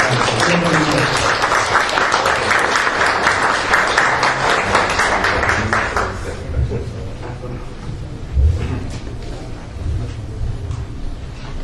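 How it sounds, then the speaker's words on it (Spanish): Loud sustained applause welcomes a speaker at an academic lecture on professional ethics, a dense burst of clapping for about six seconds before settling into a quieter room with scattered murmurs. "Recibimos con un fuerte aplauso"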